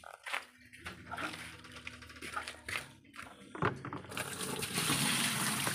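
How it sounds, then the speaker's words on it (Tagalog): Water from a bucket pours into an old Sharp ES-429T twin tub washing machine, a splashing, rushing stream that grows louder and steadier toward the end, with some faint clatter before it. "Palagay lang ng tubig."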